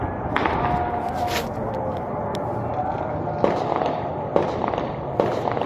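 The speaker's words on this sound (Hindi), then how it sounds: "फायर की आवाज आ रही है" New Year fireworks in Karachi pop and crackle continuously in the distance, with several sharper, louder bangs standing out over the rumbling background.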